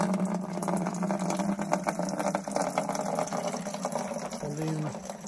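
Water gushes into a watering bucket as it fills up, a continuous rushing splash over a low engine-like pump hum, fairly close with brief voices near the end.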